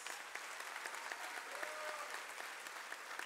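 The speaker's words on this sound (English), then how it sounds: "Let's give these students and Congresswoman another round of applause." Audience at a P-TECH high school graduation ceremony claps for the graduating students and a Congresswoman, a continuous, fairly quiet wash of many hands with faint whoops rising briefly partway through.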